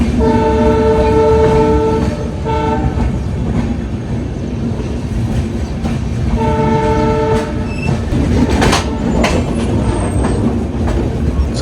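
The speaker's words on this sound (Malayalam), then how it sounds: "നമ്മൾ ഇവിടെ നിന്ന് പുറപ്പെട്ടിരിക്കുകയാണ് ബിക്കാനീർ ജംഗ്ഷനിൽ നിന്ന്. ഇത് ബിക്കാനീർ എക്സ്പ്രസ്." A Bikaner Express train pulling out of Bikaner Junction, its horn sounding twice in loud sustained blasts over a steady rumble and clatter of wheels on rails, heard close and without talk.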